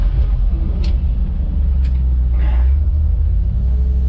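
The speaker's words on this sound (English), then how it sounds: "It's a big truck." Heavy engine of a 1979 Ford F800 truck rumbling steadily from inside the cab while driving and shifting, with a few brief clicks and a soft whoosh partway through.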